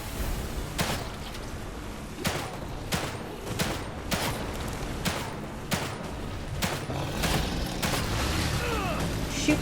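Gunfire in The Evil Within 2, about a dozen sharp shots cracking out at a steady, roughly one-per-second pace over a dense, noisy background of game ambience.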